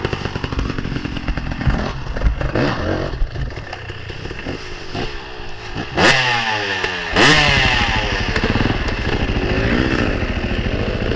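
Motorcycle engine revving hard on a hill ramp, with repeated throttle blips and loud rising surges that are close and continuous, mixed with clattering.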